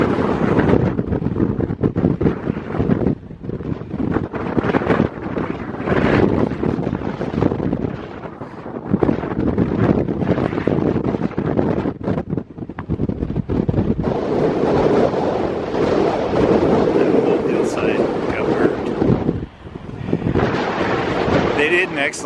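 Strong wind roars and buffets the microphone almost nonstop, dipping briefly now and then, with a voice partly buried beneath the gusts.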